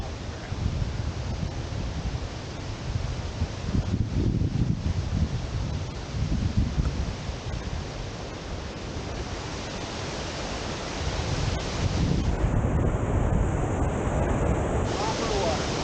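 Steady roar of a waterfall in Bechler Canyon, Yellowstone, fed by water welling from the ground, a continuous broadband rush heard nearby with slight swells and a faint gust partway through.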